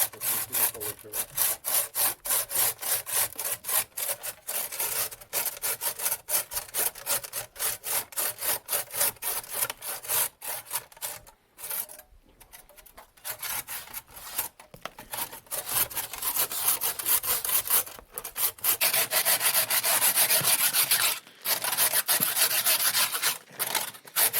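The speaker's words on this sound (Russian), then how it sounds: "На самом деле камень пилится достаточно легко." A hand saw rasps back and forth in quick, steady strokes against stone, close and continuous with a few brief pauses, in underground catacomb tunnels.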